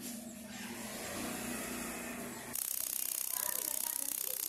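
A car engine idling at low RPM during a spark plug gap check, a steady close mechanical rumble that shifts partway through to a harsher, ticking rattle.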